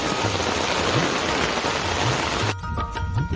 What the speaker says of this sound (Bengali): প্রচন্ড বৃষ্টি হলেছে